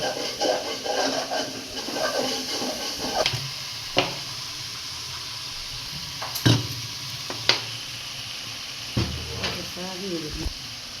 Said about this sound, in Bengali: মশলা দিয়ে এবার এগুলো ভালো করে কষানো হবে